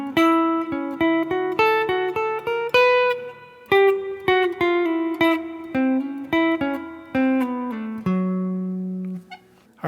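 Two measures of a guitar solo (7/30/77) on clean electric guitar, a steady run of many quick picked notes climbing and falling, ending on a long sustained note that fades, played solo and close.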